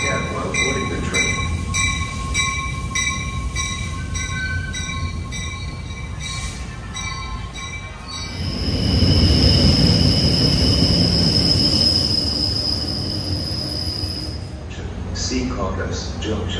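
An NJ Transit ALP-45DP locomotive pulls into Secaucus Junction, its wheels squealing in a long, steady high tone over the loud rumble of the approaching train, with a station announcement playing over it.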